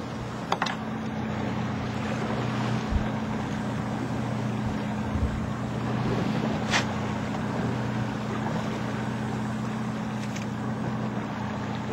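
A fishing boat motor runs at trolling speed, around 1200 to 1500 RPM, as a steady low drone under wind and water noise, with a few faint knocks and no talking.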